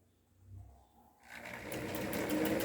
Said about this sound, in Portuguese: E vou costurar devagar.